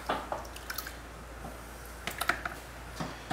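Wet clay on a pottery wheel while a 7 lb jar is thrown gives soft, faint squelches and drips in irregular bursts over a low steady motor hum.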